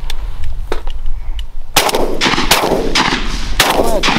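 Shotgun blasts ring out during a mourning dove hunt, one loud close shot followed by several more in quick succession, each a sharp broadband crack over outdoor wind noise.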